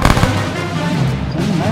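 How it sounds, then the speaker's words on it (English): A deep, booming grenade blast in ArmA 3, a dense rumbling roar that fills the moment, close and loud, with no talk over it. "Grenade out, grenade out."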